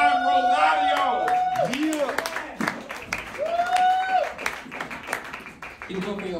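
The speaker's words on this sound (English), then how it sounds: "Clap for Juan Rosario." A comedy club audience in New York applauds a comic as he comes up, a broad wash of clapping and crowd noise running under a loud amplified voice that talks throughout.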